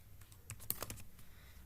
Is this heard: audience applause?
no